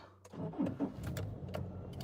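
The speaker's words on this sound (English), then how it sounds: "Oops, car start." A car engine starts with a short cranking chatter that catches into a low, faint running hum, all over about two seconds.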